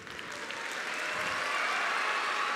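Audience clapping at a mainstage event, starting somewhat thinner and swelling into a fuller, steady round of applause.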